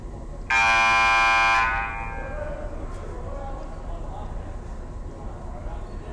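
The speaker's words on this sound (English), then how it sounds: "on the buzzer, he was responsible for the buzzer, Andrew Casey" A scoreboard buzzer at a varsity girls basketball game sounds one loud, sustained harmonic blast of about a second, then cuts off into crowd murmur and gym ambience.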